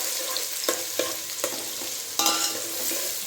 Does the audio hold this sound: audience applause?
no